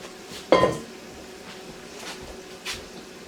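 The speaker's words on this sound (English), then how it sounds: "So, scrape that pan out." Metal utensil scraping leftover roast beef fat out of a cooking pan, one sharp clattering scrape near the start followed by faint kitchen clinks in a quiet room.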